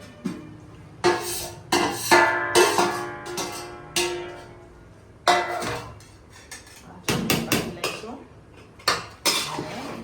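A spoon clanks and scrapes inside a metal cooking pot while mixed vegetables (peas, potatoes, green beans, cauliflower, capsicum and carrot) are stirred, giving irregular sharp metallic knocks between quieter scraping.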